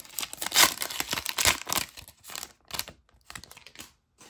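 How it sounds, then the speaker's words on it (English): A basketball trading card blaster pack is torn open by hand, producing close, crinkly ripping bursts of foil wrapper in quick uneven strokes that thin out into a few softer rustles. "Some of these packs rip easy,"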